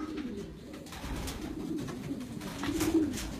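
Pigeons coo in a loft with many birds, a soft, steady run of low, rounded coos repeating throughout, fairly close, with no talking.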